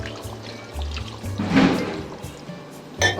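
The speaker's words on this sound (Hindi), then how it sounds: "अब मैं इसमें डाल दूंगी 1 गिलास पानी" A glass of water poured into a cooking pot of chicken and potatoes for biryani, a short splashing pour in the middle, alone with faint kitchen background.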